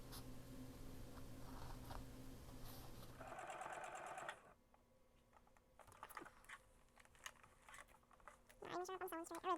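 A sewing machine stitches a handmade journal cut from an Amazon envelope, rattling in quick bursts that stop and restart, close up, with a person talking quietly between runs.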